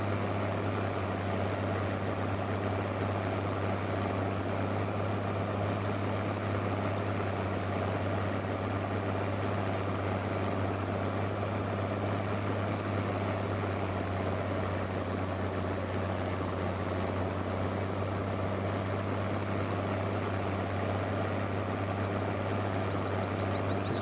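Tractor engine drones steadily in Farming Simulator 15 as it labours up a hilly grass field in South West Norway, a constant low hum with no breaks, heard alone.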